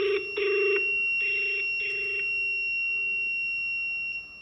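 A GSM SIM800A/900A module rings on an incoming call with loud electronic tones in short repeated bursts over a steady high whine, then the ringing stops and only the whine remains.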